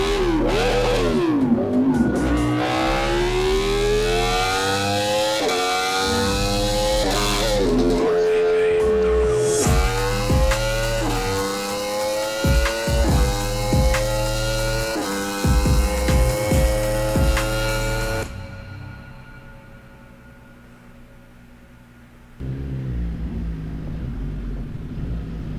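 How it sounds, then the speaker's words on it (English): A motorbike engine on a ride revs and climbs through the gears, its loud harmonic whine rising and falling in repeated sweeps before cutting to a quieter idle, then picking up again near the end. "Listen, all the sound is his bike."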